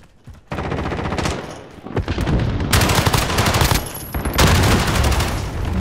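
Automatic and single gunfire rattles in Call of Duty Modern Warfare, loud, dense bursts of rapid shots with short pauses between volleys, no talk over them.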